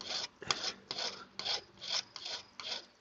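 A metal file works an ornate silver cross in seven or so close, rhythmic rasping strokes, each a short scratchy burst with brief pauses between.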